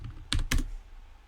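Keys on a computer keyboard clack as code is typed, with two quick, close keystrokes in a short burst over quiet room tone.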